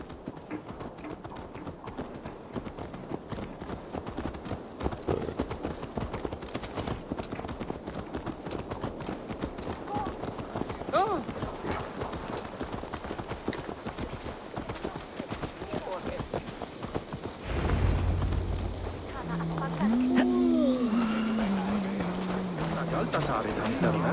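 A horse's hooves clip-clop steadily in Assassin's Creed Valhalla, a continuous trotting rhythm heard beneath game voices, with a musical tone rising near the end.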